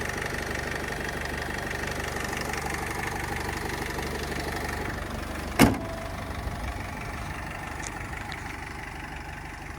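A 2013 Renault Trafic 2.0 diesel van engine idles throughout with a low, even rumble, broken by one brief sharp clunk partway through.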